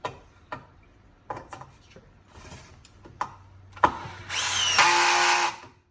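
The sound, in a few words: drill driver driving a screw into wood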